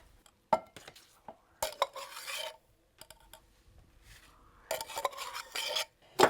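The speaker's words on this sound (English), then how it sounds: "And I will stir this up, getting this mixed first." Bursts of a spoon scraping and stirring instant yeast and water into a rye sourdough starter mixture in a bowl, irregular rasping strokes separated by short pauses, close and fairly quiet.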